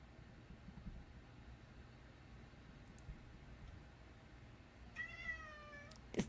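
A house cat gives a short, faint meow near the end, rising out of a quiet room with a low steady background hiss.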